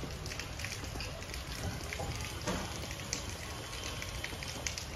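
Rain patters steadily around people eating outdoors in China, a soft continuous hiss with scattered drips and taps close by.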